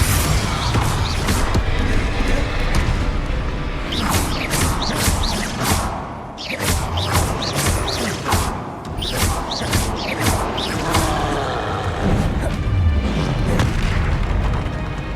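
Booming fire-blast spell impacts from the Confringo curse crash repeatedly in a Hogwarts Legacy duel, loud and dense, layered with crackling bursts, mechanical clatter and continuous combat effects.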